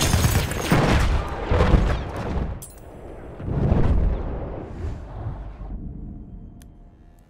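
Bomb explosions in the World War I shooter game Battlefield 1, a run of heavy booming blasts in quick succession followed by rumbling decay and a fading tail, loud and close with no talk.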